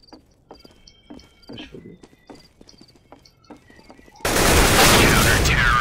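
Gunfire in the competitive shooter CS:GO: a rapid, loud burst of shots erupts suddenly after quieter in-game footsteps and clicks, filling the last seconds continuously.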